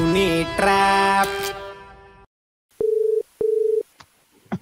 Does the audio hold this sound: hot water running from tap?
no